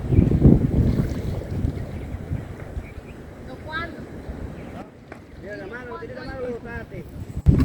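A small guided canoe glides along a channel of the Unare Lagoon wetland, with steady wind buffeting and water noise close by. Voices talk over it in the second half.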